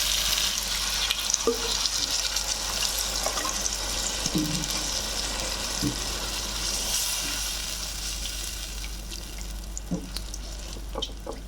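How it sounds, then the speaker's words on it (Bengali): Water poured into a hot frying pan of shrimp curry with jackfruit seeds, potato and tomato: a loud rushing sizzle and bubbling up close, with occasional utensil knocks and no talk. "এবার আমি পানি দিয়ে দিচ্ছি"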